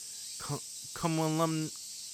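Cicadas cry on a hot summer day, a continuous shrill drone running steadily in the background while a voice speaks briefly over it.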